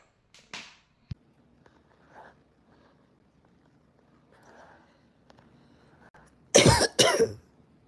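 A few scattered sounds lead to a loud burst of two or three harsh coughs near the end, close and sudden.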